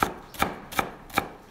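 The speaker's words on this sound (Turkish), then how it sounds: "Ardından ince ince doğruyoruz ve bir kenara alıyoruz." Four crisp knife chops at a steady, even pace as red peppers are finely cut on a board, each stroke a sharp close tap with short pauses between, no voices present.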